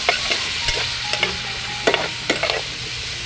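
Vegetables frying in a pan on a gas stove, giving a continuous loud sizzle broken by occasional scrapes and clinks of stirring. No one speaks.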